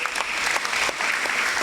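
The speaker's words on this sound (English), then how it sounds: "Let's applaud our parents and guardians" Steady applause from a school prize-giving audience, honouring parents and guardians, fills the whole stretch at a constant moderate level with dense overlapping claps.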